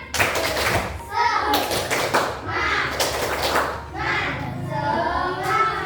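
Schoolchildren in a fourth-grade classroom do a rhythmic spirit-clap routine, with bursts of clapping in a patterned beat mixed with their loud chanting voices.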